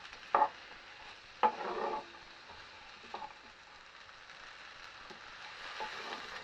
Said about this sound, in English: So we're going to give this a mix.